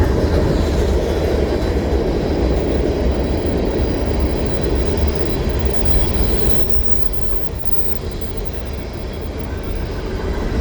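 A CN freight train made up of oil tank cars rolls past an overpass in winter, a loud, steady rumble of wheels on rail with faint clicking and a slight drop in level near the end.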